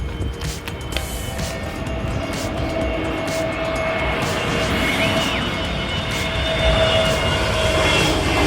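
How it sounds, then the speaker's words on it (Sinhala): SriLankan Airlines Airbus A321 landing at Katunayaka airport, a jet engine roar that builds steadily in loudness, heard from nearby and alone. "මුලින් බලා ගන්න පුළුවන් උනේ ශ්‍රී ලංකන් එයාර්ලයින් වලට අයත් Airbus A321 කියන මොඩල් එකේ aircraft එකක්"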